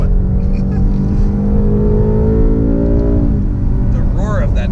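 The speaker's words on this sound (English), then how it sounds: "The roar of that V8 is unbelievable." A 2018 Ford Mustang GT with a V8 engine roars loudly and steadily, its pitch rising, then dropping and rising again as it revs, with a person talking over it.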